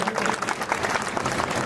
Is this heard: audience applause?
yes